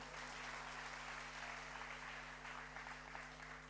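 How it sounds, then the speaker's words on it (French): Audience applause at a French song contest, a steady wash of clapping at moderate level holding throughout with a constant low hum beneath. "On pourrait m'applaudir pour cette transition extraordinaire."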